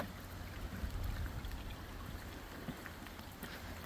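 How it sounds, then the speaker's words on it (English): Steady rushing and trickling of a creek flowing through woods near Homer, Alaska, a continuous broadband wash of water with no voices. "A nice crackling creek"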